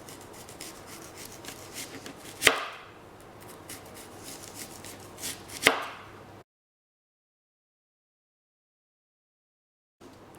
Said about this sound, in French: On prend l'oignon et on vient couper en fines lamelles.